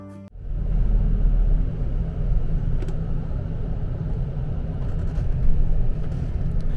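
Continuous low interior rumble inside a Tohoku Express highway bus cruising between Tokyo and Sendai, a dense steady road and engine drone that holds level throughout with no speech.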